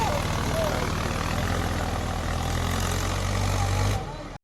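A tractor engine works in a muddy paddy field in a village, a loud steady low rumble with a rhythmic thrum close by, cutting off abruptly near the end.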